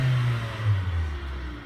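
A car engine, worked through a Sure Grip push/rock hand control, revs up and settles in a low, steady rumble, fairly quiet and heard alone.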